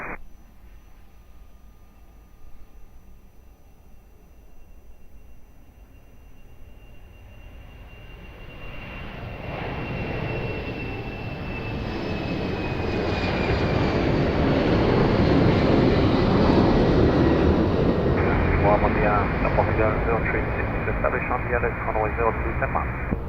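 At Lisbon Airport, an airplane's engines build from a low rumble into a loud, sustained roar that swells and holds near its peak. Radio-style voices speak over it.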